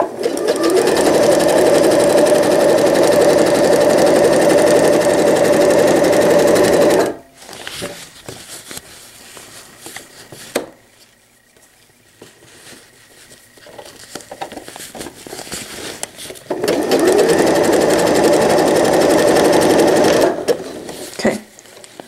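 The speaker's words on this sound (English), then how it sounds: "I'm going to keep sewing like normal until I get to where that FOE meets up" A sewing machine runs steadily while sewing a pail liner with fold-over elastic, a loud close whir for several seconds, then stops for quieter handling and rustling before starting up again.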